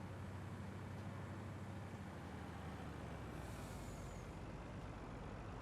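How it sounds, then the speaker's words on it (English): Sarge's truck in Farming Simulator 19 rumbles steadily at low volume, a constant broad engine hum with a faint hiss partway through, with no voices. "All right, Sarge's truck is here."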